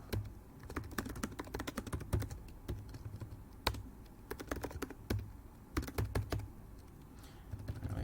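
Code is typed on a computer keyboard in quick, uneven bursts of crisp close key clicks with short pauses between runs, quiet and alone.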